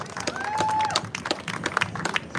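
A live audience at a Ribfest eating contest gives a short, moderate burst of applause for a competitor, while a host keeps talking over it.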